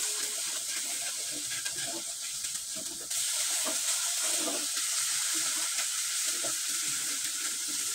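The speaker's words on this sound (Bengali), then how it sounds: "আমি কিন্তু এভাবে কিছু সময় মশলাটাকে ভালোভাবে কষিয়ে নিলাম" Masala spice paste being stir-fried in oil in a pan, a steady close sizzle and hiss with soft stirring scrapes, no voices.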